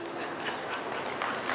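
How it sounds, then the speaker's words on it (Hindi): Audience applause at a Hindi comic poetry gathering, fairly soft, steady clapping from a crowd that stays thin and subdued for its short length. "आपकी तालियां बड़ी कमजोर है,"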